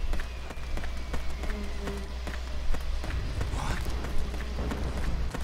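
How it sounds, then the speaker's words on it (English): Footsteps in Metal Gear Solid 4 tap out a quick, regular run over a low steady game rumble, with occasional faint speech in the background. "I hear footsteps."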